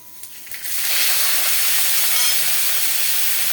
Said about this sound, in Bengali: চিংড়ি মাছ বেশি ভাজতে লাগে না, জাস্ট তেলটার মধ্যে আমি দিয়ে দেবো